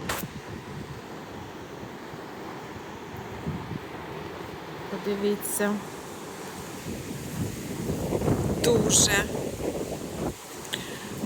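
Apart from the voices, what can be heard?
large storm waves with wind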